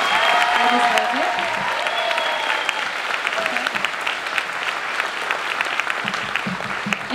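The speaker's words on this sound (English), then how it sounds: "let's give our fifth grade one more round of applause" Parents and audience at an intermediate school spring concert give the fifth grade a round of applause, a full, even patter of many hands, with a few voices calling out early on.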